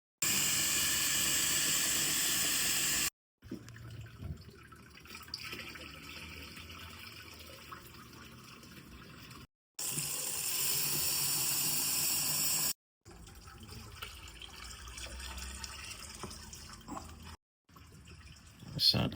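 Tap water runs into a 2 litre jug being filled for an aquarium water change, in steady bursts of a few seconds each with short pauses between fills and someone talking in the gaps.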